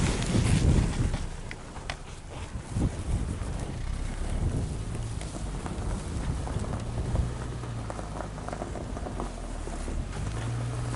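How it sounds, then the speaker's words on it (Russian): Strong wind buffets the microphone outdoors on a warm Siberian day after a deep frost, a loud rumbling roar with a heavy gust at the start, then a steady blustery rush with a low hum underneath. "ветрище"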